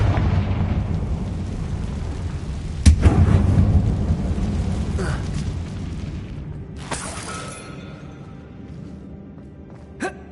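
In Hogwarts Legacy, a Confringo blasting spell erupts with a sudden loud explosive boom inside a mine, followed by a rumbling roar, then later sharp bursts and fading crackles amid game ambience with no talk.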